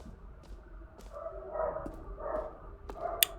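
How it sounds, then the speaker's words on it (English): A dog in The Stanley Parable game gives a few soft barks and yips at moderate distance, separated by short pauses over a low ambient hum. "Dog."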